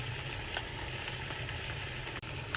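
Chilli ingredients for a five bean chilli are stirred together in a hot pan, giving a steady, close sizzle with faint scraping and a couple of small clicks, and no talking.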